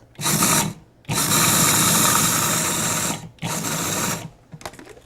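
A food processor whirs in three loud pulses, about half a second, two seconds and one second long, blending ground almonds and flourless cookies into chocolate cake batter, with brief quiet gaps between.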